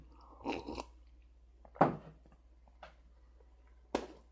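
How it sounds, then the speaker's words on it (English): Someone taking a few sips of water at a desk, producing three or four short, close, wet mouth sounds separated by quiet pauses, with no talking. "I'm going to take a sip of water"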